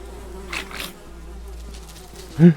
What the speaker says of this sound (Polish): Boże, muchy mnie przestraszyły, nie?